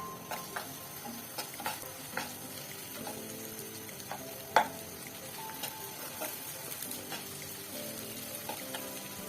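Onions frying in mustard oil in a wok for spiced chickpeas, a steady close sizzle with scattered stirring clicks and scrapes, one sharper knock near the middle, no voices.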